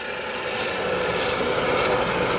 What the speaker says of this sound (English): You can come and go to an auction with a helicopter.